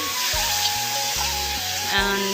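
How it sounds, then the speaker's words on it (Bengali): Leafy greens hiss and sizzle in hot oil with browned onion and garlic, a steady loud frying close up, with a spoon scraping and stirring in rhythmic strokes through the pan. "শাক দিয়ে দিছে তেল পেঁয়াজের মধ্যে"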